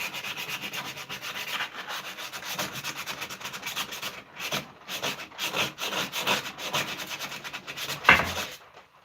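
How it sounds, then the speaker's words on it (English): A butter knife is sharpened on a whetstone, with repeated rhythmic scraping strokes of steel on stone, close and fairly loud, pausing briefly between passes. "I've been trying to change a butter knife into a pretty slick little blade, and all I've been using is a whetstone"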